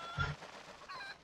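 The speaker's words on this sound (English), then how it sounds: "It's calling a magic chicken." A magic golden chicken in the video game Twilight Princess gives a short, low cluck near the start, followed by faint game ambience with no talking.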